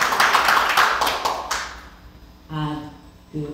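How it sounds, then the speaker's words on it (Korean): An audience at a democracy forum applauds, a dense burst of clapping for about a second and a half that fades out, followed by a voice speaking. "박수 한번 부탁드리겠습니다"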